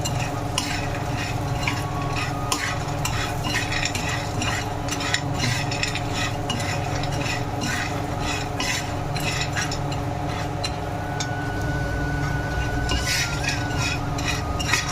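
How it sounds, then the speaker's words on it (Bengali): Fish frying in a pan while being stirred, a steady loud sizzle with repeated scraping and clinking of a spatula against the metal, continuous throughout with no talking. "ভালো করে নাড়াচাড়া করে ভেজে নেব"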